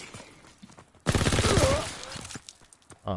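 Automatic fire from the Waffle 28 gun in a shooter game, a loud sustained burst of rapid shots after a quieter start, followed by trailing noise and a short second burst at the end.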